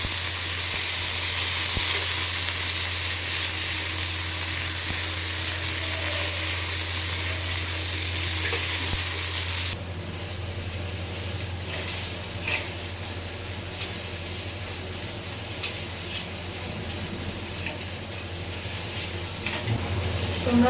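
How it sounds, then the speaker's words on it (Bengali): Onion frying in a pan for a fish curry, with a loud bright sizzle that drops abruptly to a quieter crackle halfway through, punctuated by occasional stirring scrapes. "পেঁয়াজটাকে এখন ভালো করে ভেজে নেব।"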